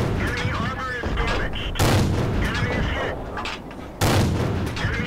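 Tank guns fire in a World of Tanks battle, with several loud booming shots and blasts breaking through under continuous talking.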